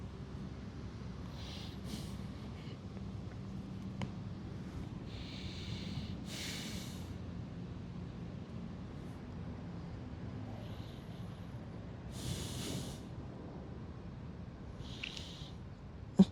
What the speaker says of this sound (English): Try to slow down your breath and try to breathe through your nose.